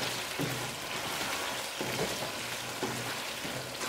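Cauliflower frying in a pan, a soft continuous sizzle with occasional light scrapes of stirring, fairly quiet and without talk.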